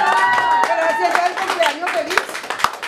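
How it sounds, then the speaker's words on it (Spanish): Guests at a birthday party with a youth mariachi band clap together in a room, quick close handclaps under a lingering sustained tone and bits of voices, tapering into a few scattered claps at the end. "Así que un aplauso bien bonito para ella."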